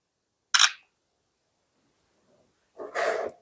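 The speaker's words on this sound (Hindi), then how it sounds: "पिक्चर में क्लिक कर लेता हूँ" Two sharp shutter clicks from the rear camera of an Oppo A18 phone, one short near burst and a longer fuller one about two seconds later, with near silence between and no talking.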